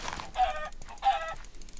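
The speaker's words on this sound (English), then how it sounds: "That chicken freaking injured me." Two loud, close squawking clucks come from a chicken in the Minecraft video game. They are evenly spaced about half a second apart over faint background noise.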